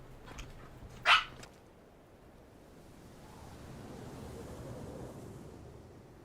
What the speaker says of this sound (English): The puppy just yelped.